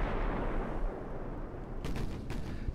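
Naval gunfire from the video game Ultimate Admiral: Dreadnoughts sounds as a heavy, steady booming rumble, followed near the end by a few sharper blasts.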